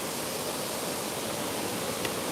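Waterfall roar with misty rain in cold weather, a steady broadband rush of falling water filling the space continuously, loud and unbroken with no voices.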